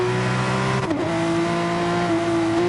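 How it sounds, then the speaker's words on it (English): A Porsche 911 RSR's loud flat-six engine in a racing video game during a GT3 esports race at Dragon Trail Gardens drones steadily and close, with a brief dip in pitch partway through before the sustained note resumes. "a really loud flat 6 engine to boot as well"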